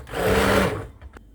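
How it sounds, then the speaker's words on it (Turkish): A blender purées a pot of home-style red lentil soup with vegetables, a loud whirring motor burst lasting under a second before cutting off, followed by a few faint clicks and knocks. "Şimdi ben bunu biraz blenderdan geçireceğim inşallah."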